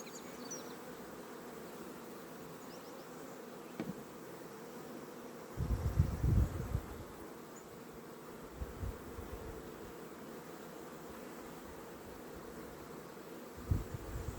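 Honey bees hum steadily inside an opened hive during grafting, a continuous low drone with a few brief louder bumps and rustles near the frames.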